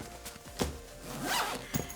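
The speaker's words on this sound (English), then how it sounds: "use that compression zipper." A compression zipper on a packed travel bag is pulled closed in a few quick rasping strokes, close and fairly quiet, with light rustling between pulls.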